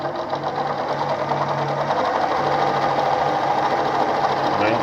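Pfaff model 230 sewing machine running steadily, a close, even whirring drone with a fast mechanical rhythm that holds the same pace throughout.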